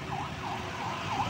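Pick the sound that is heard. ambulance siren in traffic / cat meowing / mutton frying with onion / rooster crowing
ambulance siren in traffic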